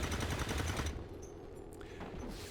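Rapid automatic gunfire rattles loudly in XCOM 2, a fast burst that stops abruptly and leaves a fainter tail of echoes and game effects.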